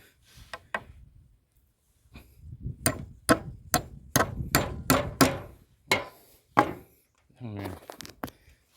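Sharp, ringing hammer strikes on nails during construction of an earthen house with concrete posts come in quick bursts, mostly evenly spaced, close and loud, with a brief pause between runs and some talking mixed in.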